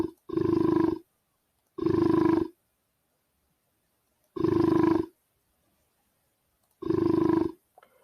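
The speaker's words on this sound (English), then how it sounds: "that's the closest that I'm going to have right now to a bear sound." Four deep, rumbling roars, each about a second long, separated by silent pauses, loud and close with nothing else in between.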